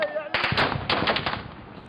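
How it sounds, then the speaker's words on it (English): Close gunfire during a battle in the Libyan town of Zawiya erupts in sharp rapid bursts, loud and near, with cracking shots following a quieter opening. "Seconds later, the gunfire gets much closer."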